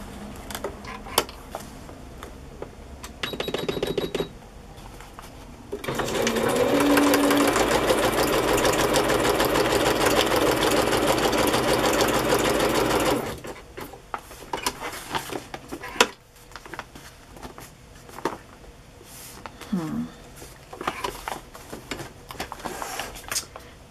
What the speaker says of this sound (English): Now all I have to do is sew it to the page